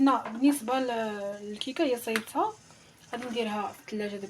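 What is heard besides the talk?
No distinct noise like a dog, phone or traffic.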